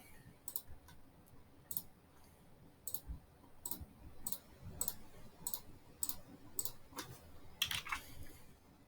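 Computer mouse and key clicks while paying a bill online, a quiet series of sharp, evenly spaced clicks over soft room noise, with a quick double click near the end.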